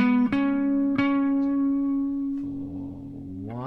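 A slow, clean electric guitar pentatonic solo of sustained single notes, each plucked attack ringing out, with a pitch bend rising near the end; no talking.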